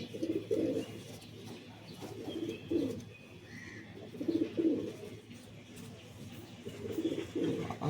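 A kata gardan kalshira pigeon coos in soft, low rolling bursts that recur every couple of seconds, nearby and fairly quiet.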